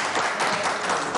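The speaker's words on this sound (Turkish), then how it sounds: "bir moral alkışı verelim" Brief burst of studio audience applause on a Turkish TV talk show, steady clapping that holds at moderate loudness for about a second.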